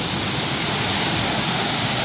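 A waterfall's rushing water roars in a steady, dense, close-up wash of noise that never lets up and has no voices over it.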